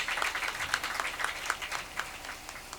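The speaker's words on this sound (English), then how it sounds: "Another round of applause for yourselves" Scattered, fairly faint clapping from matriculants at a university matriculation ceremony, individual claps audible in an uneven rhythm.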